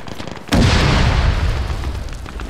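A tank blows up in the military simulation game Arma 3 with a sudden loud, close boom, followed by a sustained roaring rumble of debris and fire that slowly fades.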